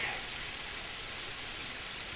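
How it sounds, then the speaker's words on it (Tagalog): Rain falls in the survival game Green Hell as a soft, steady hiss of drops on surfaces, fairly faint and even throughout, with no voices. "Umuulan na naman."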